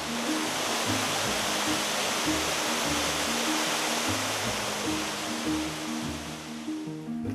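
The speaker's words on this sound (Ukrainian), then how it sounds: "Природна вода, натуральний водоспад висотою 77 метрів." A natural waterfall 77 metres high pours into the lake at Fairy Cave in Switzerland, giving a steady, dense roar of falling water with no voices.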